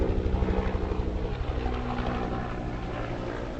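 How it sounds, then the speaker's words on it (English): A helicopter drones loudly overhead, its rotor thumping in a steady rapid pulse that gradually softens as it moves away. "Sorry for the helicopter sound."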